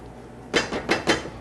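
A spoon knocks and scrapes against a cooking pot while salt and pepper are stirred in: three or four quick, close metallic clinks after a brief quiet start, with no talking.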